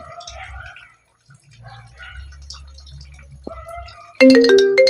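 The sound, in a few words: Squid Game ringtone playing on a phone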